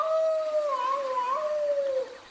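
A big dog howls in a long, wavering, song-like tone that holds steady for about two seconds before breaking off, loud and close with nothing else over it.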